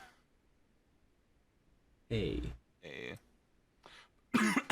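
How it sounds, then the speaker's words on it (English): A sudden coughing fit breaks out of near silence, with several harsh, loud, close throat-clearing coughs in uneven bursts over a few seconds. "I was attacked by the cough monster out of nowhere"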